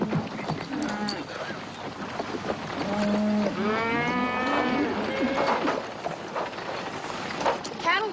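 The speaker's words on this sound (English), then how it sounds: "Cattle will be glad to get a drink." A cattle herd being driven to water on a Western cattle drive, several long, deep moos overlapping at close range amid restless herd noise and a voice speaking.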